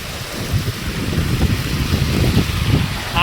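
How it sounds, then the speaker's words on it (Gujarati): Continuous rushing water of a flooding river with a steady broadband roar, close by, with gusty wind noise buffeting the microphone throughout. "અહીંયાથી લઈ અહીંયાથી પાણી ચાલુ છે"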